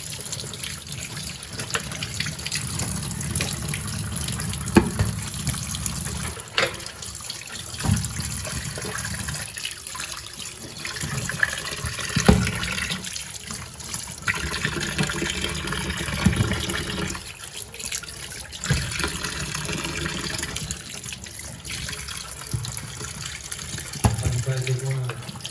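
Tap water runs steadily into a sink while tilapia fish are rinsed, a continuous splashing flow with some handling noises and faint voices in the background.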